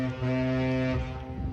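A dredger's horn blasts in the port in celebration, a deep, loud, sustained honk with rich rumbling tone that holds steadily, with faint wind-like noise underneath.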